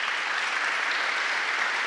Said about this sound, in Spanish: Necesitamos dale un aplauso al Señor.